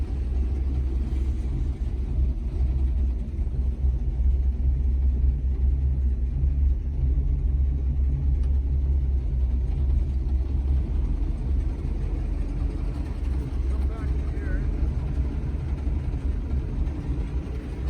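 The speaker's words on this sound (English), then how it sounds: "Take a listen to the Hemi engine." A 1956 Chrysler New Yorker's Hemi V8 engine idling steadily for a long stretch, a deep, continuous rumble close by with no talking.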